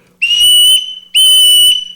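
Two loud, shrill whistle blasts sound close by, each held for about half a second with a brief gap between them.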